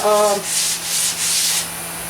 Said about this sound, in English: I like roughing it up with the sandpaper. This is 80 grit sandpaper.